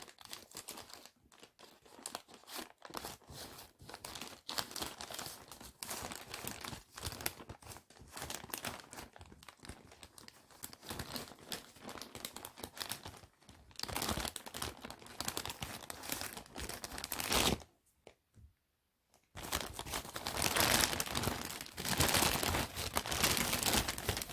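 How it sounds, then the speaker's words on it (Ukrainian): Continuous crinkling and tearing of plastic packaging as a parcel of goods from China (Temu) is opened, rustling steadily for over twenty seconds with brief pauses and no voices. "Відкриємо посилку."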